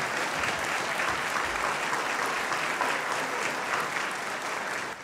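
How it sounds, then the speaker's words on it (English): A warm round of audience applause for award winners at a volunteers' recognition night, dense steady clapping from a large crowd that sustains throughout and fades slightly at the close. "Please, a warm round of applause for all of our award winners here this evening."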